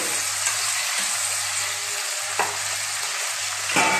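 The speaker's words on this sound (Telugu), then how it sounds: "ఇది ఒక పది నిమిషాలు మూటేసుకొని బాగా ఎగే వరకు వేయించుకుంటాం" Dried prawns and broad beans fry in a covered pan, giving a continuous close hiss of sizzling oil with a few sharp pops and faint stirring, no talking.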